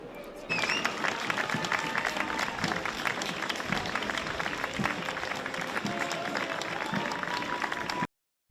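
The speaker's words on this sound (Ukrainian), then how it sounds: "публіка зустріла їх оваціями" Audience ovation for Ukrainian soldiers at an event attended by King Charles III, a dense wash of applause and crowd noise that starts abruptly, holds steady, then cuts off near the end.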